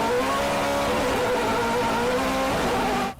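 Loud, close engine roar of a Subaru rally car fitted with a Ferrari V8, holding a steady high-revving pitch for about three seconds before fading at the end.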